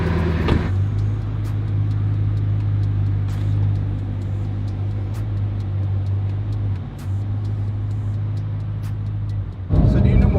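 A loud Ferrari F40 engine runs steadily with a deep, constant rumble close by while driving, revving up sharply near the end.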